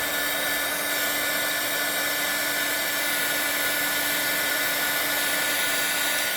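A heat gun warms embossing powder on a card, giving a steady loud blowing hum with a constant whine that runs unbroken throughout, with no speech.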